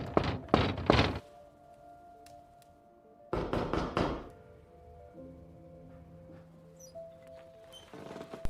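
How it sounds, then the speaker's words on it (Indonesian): Loud, heavy knocks pound on a door in two hard bursts of rapid blows, separated by a quieter stretch with a low hum, and a final burst of knocking at the end. "seseorang tengah mengetuk pintu dengan sangat keras"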